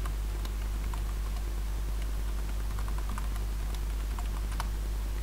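Someone types a new password on a computer keyboard, a steady run of quick, light key taps over a low constant hum, close and moderately quiet, with no talking.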